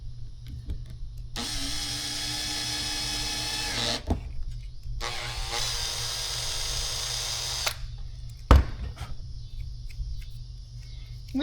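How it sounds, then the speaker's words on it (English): Two sustained bursts of a power drill whining up close as it drills pilot holes while fitting an alternator to a 1977 Trans Am, each a few seconds long, followed by a sharp knock and quiet hum. "I just gotta drill some pilot holes."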